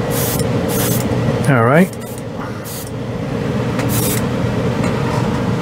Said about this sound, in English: Oh, it really likes this airbrush. It's going on nice.